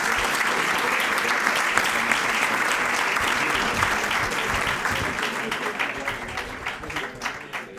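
Conference audience giving sustained applause, dense rapid clapping that stays loud before gradually thinning and fading toward the end, with no voices over it.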